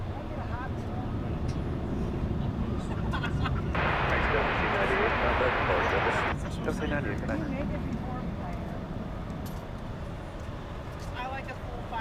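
A jet airliner takes off from a runway at DFW Airport and banks into a turn, its broad engine roar steady and fairly close, swelling through the middle and easing later, with people talking over it.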